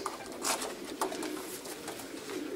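Pigeons coo softly inside a loft, low throaty calls repeating in a dense, overlapping murmur with a few brighter flutters, moderately close and without talk.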